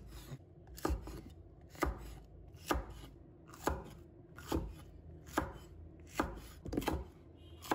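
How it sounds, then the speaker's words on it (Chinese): A knife chops a halved, seeded chili pepper into small pieces on a cutting board, with sharp regular strikes about once a second, close and distinct over a quiet room, with no talking. "再改刀切成小块"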